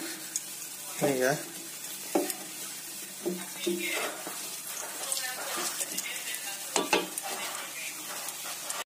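Eggless potato donuts frying in hot oil, a soft steady sizzle heard under a woman's intermittent speech and light handling noises.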